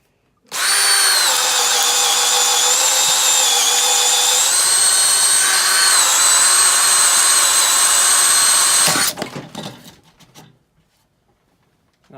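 A Makita brushed hammer drill runs on speed 1, a loud steady whine lasting about eight seconds before it stops sharply and spins down, with no voices over it.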